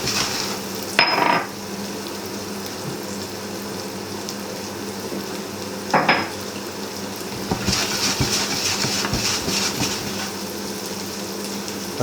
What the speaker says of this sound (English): Let them just toast a little bit.